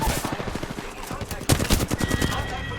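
Rapid automatic gunfire in Apex Legends, a dense run of close, punchy shots with a sharper burst midway, the clatter continuing in quick rhythmic bursts.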